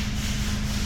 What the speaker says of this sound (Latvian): mums jānorb smuki nost, jo viņi pēc tam smuki būs jāmetina tur virsū